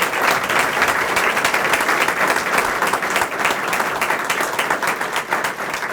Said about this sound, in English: Matt, we want to thank you and give you a round of applause for your support.